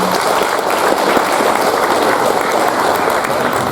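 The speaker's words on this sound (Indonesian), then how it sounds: "Ini tepuk tangannya lebih meriah lagi." An audience at a doctoral promotion ceremony for an environmental studies degree claps in dense, sustained, enthusiastic applause that fills the room evenly from start to finish.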